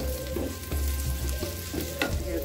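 Dried chili tempering sizzling hard in hot oil for vegetable khichuri, a loud continuous crackle and hiss with small bursts of spattering, no talk over it.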